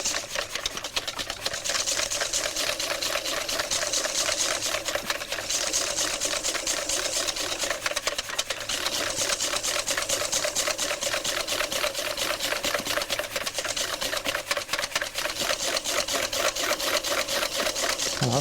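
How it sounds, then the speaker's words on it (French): Cream being whisked with icing sugar into chantilly, a fast continuous mechanical whirring and rattling of the whisk that holds steady and close for the whole stretch, with no voices. "on va accélérer le mouvement pour justement monter la chantilly."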